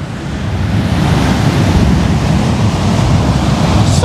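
Ocean waves breaking on a beach produce a steady, loud roar of surf with continuous wash and some wind rumble, no pauses across the stretch and no voices heard.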